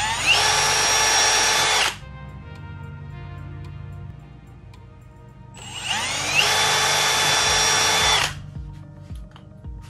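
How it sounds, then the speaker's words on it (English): Power drill with a 3/32 bit pre-drilling a guide hole for a Harley Davidson SAE adapter harness install, two loud steady high-pitched whirring runs of about two to three seconds each, separated by a quiet pause. "So I'm gonna pre-drill me a guide hole in two different spots."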